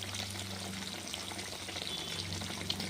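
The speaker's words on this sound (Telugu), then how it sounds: "ఇట్లా బాగా బ్రౌన్ కలర్ వచ్చేటట్టు బాగా వేయించుకోవాలి ఫిష్ ముక్కలన్నీ" Pieces of fish frying in hot oil for a fish pickle, a steady close sizzle and crackle that runs without a break beneath a low hum.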